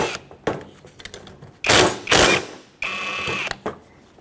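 Two caliper bolts on a 2006-2010 Hyundai Sonata rear brake come loose under a 14mm socket, giving short mechanical whirring and ratcheting bursts with clicks and clanks between them, close up and fairly loud.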